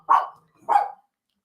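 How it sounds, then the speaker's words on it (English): A dog barks twice indoors, two short, loud, close barks about half a second apart, followed by silence. "You're gonna hear barking."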